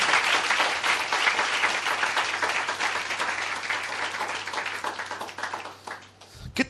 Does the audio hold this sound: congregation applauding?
yes